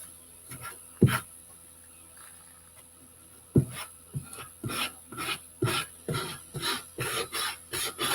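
Hand sanding of a craft piece: several rough rasping strokes, close and fairly loud, starting sparse with isolated scrapes and then settling into a steady back-and-forth rhythm, with no one talking.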